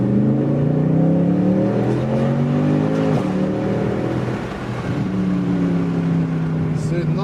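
A Mercedes C63 AMG engine revs loudly and close, its harmonic pitch climbing and dropping in repeated surges, with a sharp dip near the middle before rising again; a voice is also present.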